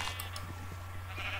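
A sheep in the Minecraft video game bleats faintly, a short quiet bleat over a steady background hum with no talk.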